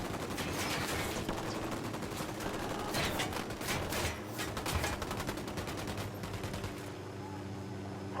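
Sustained automatic gunfire in Ghost Recon: Wildlands, with close, dense bursts of rifle shots that come in waves, swell around the middle and trail off near the end.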